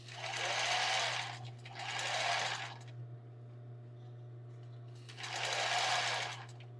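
A sewing machine stitches tulle and lace for a bra in three short runs of rapid, even whirring, each about a second long, separated by quiet pauses with a low hum underneath.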